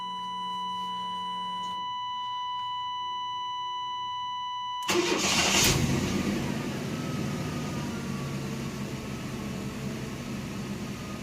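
A 1993 Chevrolet S10 pickup with a 4.3 engine, warm after sitting half an hour to an hour, cranks and catches partway through, then settles into a steady close idle after an electronic chime.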